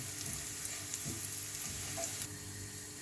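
Ingredients for chicken fried rice browning in hot oil in a pan, giving a dense, continuous close-up sizzle with occasional stirring scrapes and no voices.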